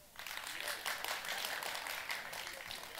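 An audience at a French-language comedy evening breaks into brief applause, a dense, fairly quiet burst of clapping that starts abruptly and holds steady.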